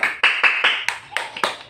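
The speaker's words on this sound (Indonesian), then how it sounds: "bagus sekali, tepuk tangan dulu semuanya" A class of schoolchildren claps hands together in a steady burst of about eight sharp, loud, evenly spaced claps, close by and without talking.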